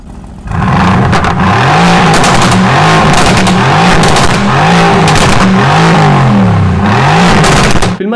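A twin-turbo 4-litre V8 race car producing 503 horsepower laps the Nürburgring, its engine loud and close, revving up and down through repeated gear changes with a sustained roar.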